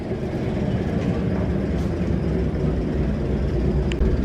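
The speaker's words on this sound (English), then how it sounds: "they've got a diesel shunter there chugging away" A diesel shunter locomotive chugs away inside a large museum shed, giving a steady, continuous low rumble with no talk over it.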